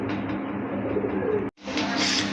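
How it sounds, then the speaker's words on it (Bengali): Racing pigeons, including a black racer pair, coo steadily at close range in a loft, a continuous low murmur with a brief break near the end. "আরেক জোড়া রেসার কবুতর এটা হচ্ছে আপনার ব্ল্যাক রেসার কবুতর"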